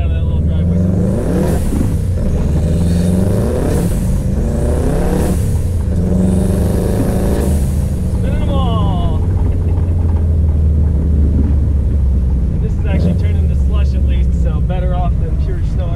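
A WRX-swapped Subaru Impreza 2.5RS with a turbo engine drives on snowy, icy roads, its loud engine droning and rising through revs continuously, with a person talking over it.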